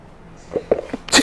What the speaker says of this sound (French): Oh, le poivre là, ça fait éternuer.